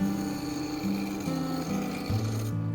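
A gouge chisel on a lathe shaves a half-inch square wooden handle blank toward a round shape. It makes a continuous close, rasping cut with stepped shifts in pitch and no talk.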